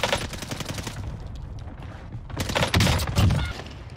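Bursts of gunfire in a Call of Duty Warzone match on Rebirth Island, rapid cracks and volleys coming in clusters, loudest near the end, with no talk over them.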